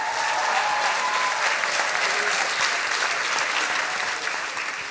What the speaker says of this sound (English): Please a big applause for Alina Pushkarev.